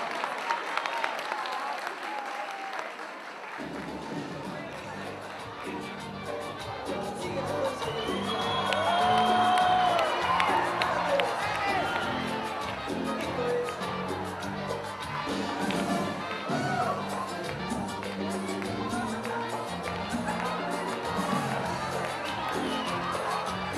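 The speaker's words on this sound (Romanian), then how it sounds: "Să-i aplaudăm!" A school freshman ball crowd bursts into steady applause and cheering, with whoops and children's shouts, which swell loudest midway and keep going through the clip.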